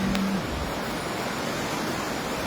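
A river rushes past the Devpriya temple in Uttarkhand, a steady broadband roar of flowing water with no breaks, close and continuous throughout.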